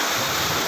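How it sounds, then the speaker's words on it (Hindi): Heavy rain pouring down on a street in Hyderabad, Sindh, a loud dense wash of noise filling the short moment without any break. "अभी ताज़ा ताज़ा बारिश हो रही है तो बारिश चल रही है"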